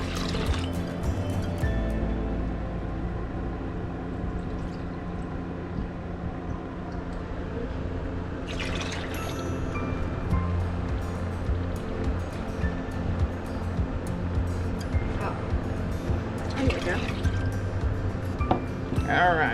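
Vinegar pours into a pot to make a pickling brine for sweet and spicy cherry tomatoes: a steady, close liquid stream with gurgles and splashes throughout.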